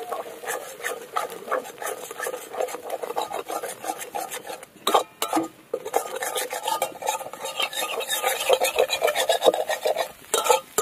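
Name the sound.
egg being stirred and scrambled in a pan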